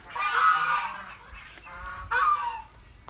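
Several loud, nasal honking calls from a group of Muscovy ducks in a pen, close by, in two bursts with a brief lull between.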